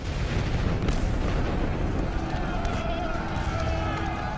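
Wartime gunfire and artillery from the First World War rumble in a dense, continuous, noisy roar with no clear separate shots.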